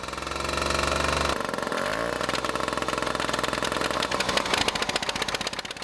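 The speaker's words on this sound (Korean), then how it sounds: "얼어붙은 엔진이 녹아 시동이 걸렸다." A logging tractor's engine, frozen in deep Siberian cold and thawed with hot water, catches and settles into a loud, rapid, rhythmic idle, its pulsing chug continuing steadily close by.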